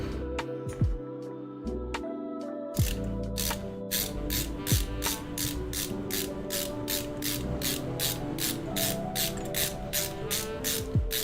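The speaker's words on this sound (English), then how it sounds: "How do you like the screwdriver ASMR?" A ratcheting screwdriver clicks in quick, regular bursts up close during the assembly of a card-sorting robot, with a short pause early on and then a long, steady run of crisp ratchet ticks.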